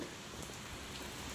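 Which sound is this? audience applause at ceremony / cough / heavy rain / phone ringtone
heavy rain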